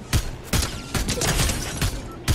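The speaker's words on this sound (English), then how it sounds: "There's another guy shooting at me." Fortnite gunfire from another player rings out as sharp, loud shots in irregular bursts about every half second, close and punchy, with no talk over it.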